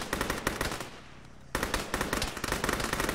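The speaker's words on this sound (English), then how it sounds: "Beard and engaging with machine gun fire." Loud machine gun fire in a military video game, rapid bursts of shots with a short pause in the middle before another sustained burst.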